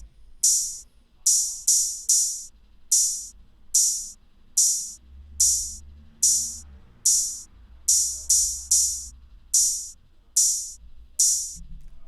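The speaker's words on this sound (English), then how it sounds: "the open hat pattern sounds like this." Open hi-hat in a trap-style drum pattern, bright sizzling hits that ring and fade, about sixteen across the stretch in a slightly uneven, syncopated rhythm over a soft low bass hum.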